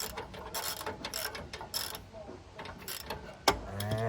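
Ratchet clicks in short repeated bursts as a 3/4 inch socket works a nut off a car's rear strut, a close mechanical clatter with a louder knock near the end.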